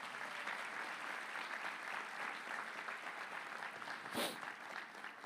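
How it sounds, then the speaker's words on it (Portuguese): A church congregation applauds during a sermon, a steady, fairly faint roar of many hands clapping together with no break. A single sharper noise stands out near the end. "Você pode aplaudir o Senhor por isso?"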